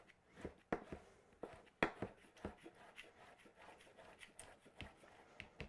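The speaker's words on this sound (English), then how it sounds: "I'm just going to cut my red pepper up." A knife slicing a red pepper on a cutting board, a quiet irregular series of crisp taps and chops, with a few sharper knocks, close and faint with no talking.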